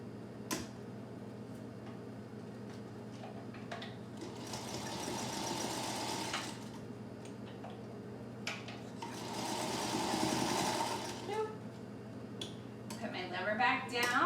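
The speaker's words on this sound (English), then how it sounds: "I'm going to go ahead and back stitch the end" A sewing machine runs in two bursts while back-stitching the end of fabric binding on a homemade face mask, a steady close whirring with brief pauses, under a constant low hum.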